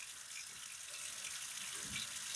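Water pours steadily from a tap into a sink as it fills, a continuous close hiss and gurgle with no talking.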